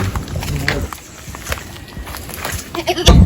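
Goats on a Jamaican yard give a few short bleats amid background clatter and faint voices, with a louder burst near the end.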